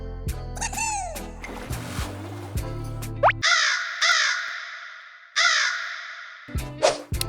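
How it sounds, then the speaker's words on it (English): A crow caws several times in harsh, separate calls, loud and close, with a short burst of other animal noise before it. "It's the crow."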